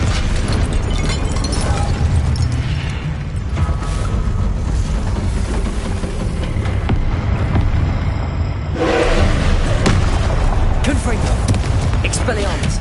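Rapid spell blasts, bursts and explosions from Hogwarts Legacy combat on PS5, dense and loud throughout, with a voice calling out spells over the booms.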